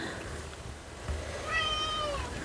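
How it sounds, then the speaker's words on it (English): A pet cat gives a single drawn-out meow against quiet room tone, with no purring clearly audible. "Come give the people some purr. You love to purr."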